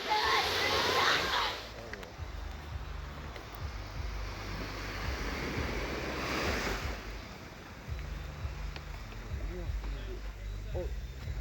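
Surf washing onto a Grenada beach, a steady broadband wash with a louder break at the start and swells around the middle, under ongoing wind noise on the microphone and a low hum.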